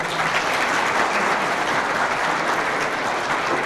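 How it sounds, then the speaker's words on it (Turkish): An audience at a district advisory council meeting gives sustained, dense applause, loud and steady throughout with no voices over it. "Onlar için de bir alkış istiyorum."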